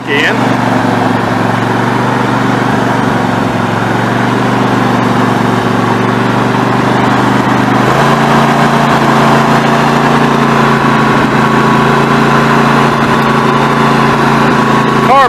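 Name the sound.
Snapper riding mower engine idling while warming up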